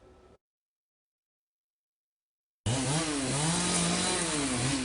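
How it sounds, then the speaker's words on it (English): Chainsaws cut into a fallen Chinese elm tree in Culver City, starting abruptly after a brief silence, then running loud and close with the engine pitch rising and dipping as the blade bites. "The sound of chainsaws"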